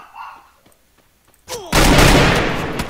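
A sharp gunshot burst followed by sustained loud noisy rumble of Free Fire video game gunfire, after a quiet stretch with faint clicks.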